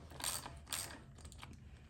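A ratchet works a carburetor bolt loose on a 2012 Troy-Bilt TB240 mower with a Honda GCV160 engine. Two bursts of quick clicking come up close, then lighter scattered ticks follow.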